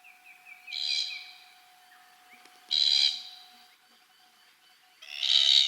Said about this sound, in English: Oh, black cockatoos. I tell you what, I've seen some black cockatoos out here this trip.